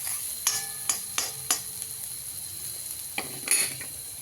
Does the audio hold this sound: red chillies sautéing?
yes